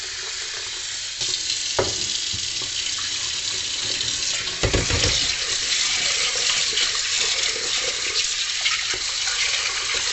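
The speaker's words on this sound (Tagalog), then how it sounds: "hugasan natin ng maayos ang munggo" Mung beans being washed under running tap water for ginataang monggo, a steady broadband rush of water with swishing and a few knocks of the beans against the bowl, close and continuous, no talking.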